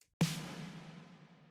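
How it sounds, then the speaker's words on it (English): A single reverb-drenched pop snare hit processed with the Avid Lo-Fi plugin, cracking loudly after a brief silence and decaying in a long, gritty wash of reverb tail, alone with no voices. "this verby snare with a little bit of Avid Lo-Fi that sounds like this"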